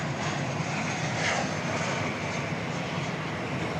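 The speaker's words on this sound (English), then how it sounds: "This one arriving from Kansas City, Missouri, 737-800. Flight 1710, American Airlines." An American Airlines Boeing 737-800 arriving at DFW Airport gives a sustained, broad jet engine roar that swells slightly midway, steady and fairly loud, alone without talk.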